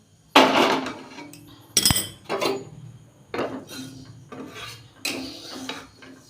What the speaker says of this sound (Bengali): গ্রেটারটা লেসে একটু আদা গ্রেট করে দিয়ে দেবো